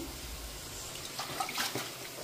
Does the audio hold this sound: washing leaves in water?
yes